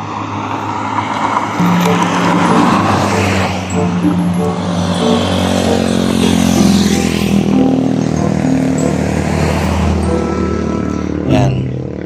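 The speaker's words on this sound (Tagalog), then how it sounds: "Ibang klase yung mga sasakyan nila rito na tumutunog" Loud, close engine roar and rumble from local road vehicles around Cagayan De Oro City, shifting in pitch as they pass and rev, continuous throughout with no clear talking.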